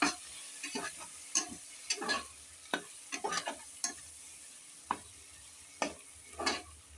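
Ginger garlic paste and spices sizzle and get stirred in a pan, with irregular scraping spoon strokes and short hissing bursts over a quiet background, close and fairly soft.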